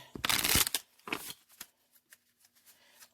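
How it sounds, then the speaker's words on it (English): A regular deck of playing cards is shuffled close by, a quick riffling burst followed by softer taps and fading card sounds. "I pulled out just my regular deck of cards"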